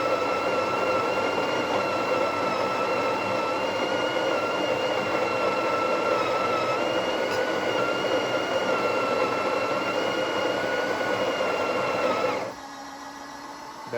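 A Breville Oracle BES980 espresso machine runs with a steady mechanical whir and hum that holds for about twelve seconds, then cuts off abruptly, leaving a low residual drone.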